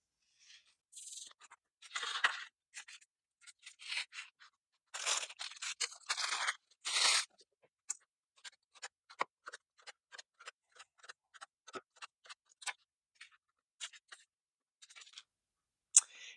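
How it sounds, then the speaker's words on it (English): A knife slices through a baked biscotti log in a quiet setting, giving short dry crunches and crackles in irregular bursts, some longer rasping cuts early on and many faint ticks later, close but soft. "So I'm going to cut up the rest and get them in the oven"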